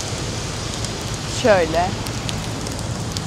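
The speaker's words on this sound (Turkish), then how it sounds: "Böyle biraz yağmurun dinmesini bekliyoruz çünkü çok yağmur yağıyor." Heavy rain falls on a New York street near Fifth Avenue as a steady broadband hiss, with a brief spoken word and a short passing tonal sweep in the middle.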